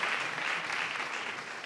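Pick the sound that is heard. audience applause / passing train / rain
audience applause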